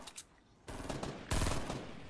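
Rapid automatic gunfire in the Fortnite battle royale game, a quiet burst followed by sustained loud firing that grows heavier and denser toward the end.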